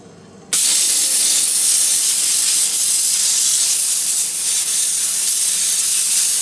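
A jeweler's steam cleaner blasting a resized ring, cutting in abruptly with a loud, close, continuous hiss that holds steady to the end.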